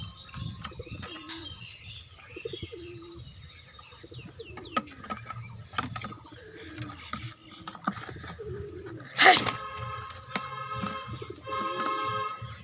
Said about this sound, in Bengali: তো বন্ধু দুটো পায়রা চলে এসেছে,